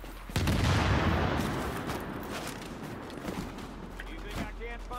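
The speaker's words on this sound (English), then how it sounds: "Big, heavy fire." Heavy gunfire in Tom Clancy's The Division forms a dense, sustained roar of overlapping shots that swells at the start and then rumbles on steadily, with a voice talking over it.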